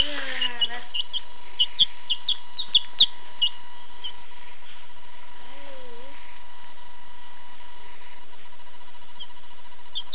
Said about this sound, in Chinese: 看小鸡儿，呦呦呦，要吃食啊